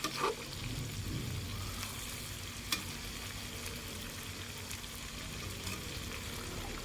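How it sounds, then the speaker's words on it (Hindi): Chicken fried with garlic ginger paste over a high flame, giving a steady close sizzle and crackle with a few brief stirring knocks, no voices. "इसको मैंने लहसुन अदरक के पेस्ट के साथ फ्राई किया है चिकन को।"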